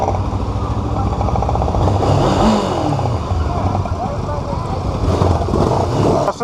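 Loud, dense engine roar from several motorcycles running together, including a Lifan SR 220 and a KTM Duke 200, steady throughout with some revving, under a crowd of voices.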